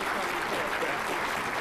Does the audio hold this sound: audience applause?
yes